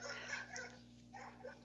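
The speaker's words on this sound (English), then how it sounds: "barking at the dog that's down below" A dog on a porch barks and whimpers at another dog down below, faint yips and short cries over a steady low hum, with no talking.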